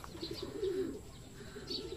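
A racing pigeon coos softly near a loft, one low warbling call sounding over faint background hum, with a couple of light chirps and no talk.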